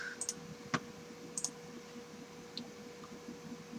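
Sparse, quiet clicks of a computer mouse tap out one or two at a time at irregular intervals against a faint room hum while a file is uploaded, with no voices.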